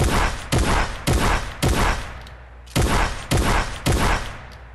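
A shotgun fires rapidly in a video game, seven loud booming blasts in quick, slightly uneven succession, each with a short decaying tail, close and dominant with no voices.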